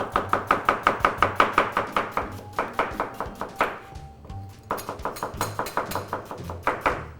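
A knife thinly slices half a red onion on a cutting board for ceviche, with rapid, evenly spaced chops close by, a brief pause, then another quick run of chopping, and no one talking.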